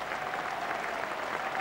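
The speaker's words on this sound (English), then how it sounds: "Great cheer from the Notts fans." A cricket crowd at Lord's applauds and cheers during the Benson & Hedges Cup final between Essex and Nottinghamshire, a brief, steady burst of distant clapping.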